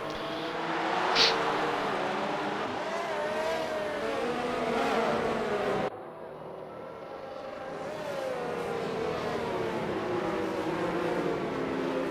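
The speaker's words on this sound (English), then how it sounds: "safety car going round again" Race car engine droning steadily around a track during a safety car period, a continuous loud whine with gently rising and falling pitch and a brief dip midway as the sound shifts.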